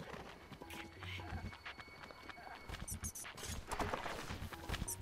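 Horse hooves in The Legend of Zelda: Breath of the Wild clop in a rapid, busy rhythm, with game sounds and a player talking over them.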